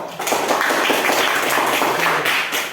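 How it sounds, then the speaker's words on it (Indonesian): Classroom applause for the final presenting group, a dense crowd of hands clapping steadily and fairly close for nearly three seconds, with no talking over it. "Berikan aplaus untuk kelompok terakhir. Mana suara aplausnya?"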